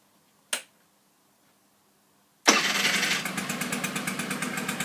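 A Honda motorcycle engine cranks and fires after a short click, then settles into a steady, loud idle with a fast regular pulse close by.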